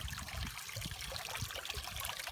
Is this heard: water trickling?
yes